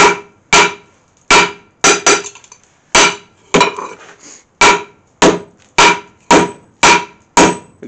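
Hammer blows ring out on hot steel as the bevel of a bill hook is forged, a dozen or so sharp, loud metallic strikes in a steady, slightly uneven rhythm with brief ringing decays and no talking.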